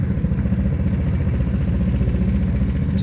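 A Vespa GTS 300 scooter engine runs steadily at idle, a continuous low, close throb with even pulsing and no pauses across the stretch.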